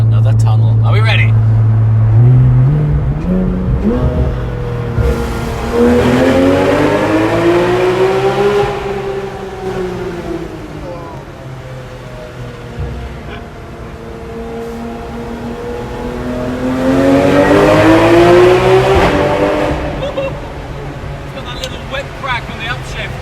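A first-generation performance car's engine climbs hard through the gears on a freshly carved mountain road through rock and tunnels, pitch rising and dropping with each upshift across two loud acceleration pulls, with a voice speaking briefly over it.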